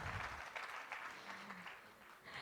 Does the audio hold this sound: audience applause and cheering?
yes